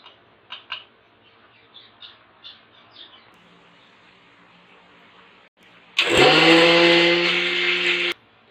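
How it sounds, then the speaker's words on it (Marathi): A mixer grinder whirs loudly for about two seconds as it grinds masala paste for Malvani chicken, after a stretch of faint bird chirps in the background; nobody speaks. "आता आपण हे मिक्सरला लावून घेऊया"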